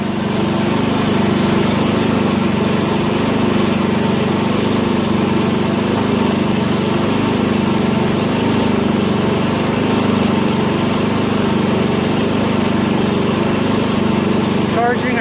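Up close, a Poulan 16.5HP lawn tractor engine runs at high throttle, a loud, even, sustained drone with a steady pitch and no pauses.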